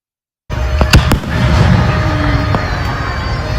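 Fourth of July fireworks in Mississippi burst in quick succession after a moment of silence, sharp bangs followed by a sustained crackle and rumble.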